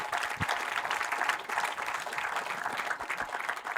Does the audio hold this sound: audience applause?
yes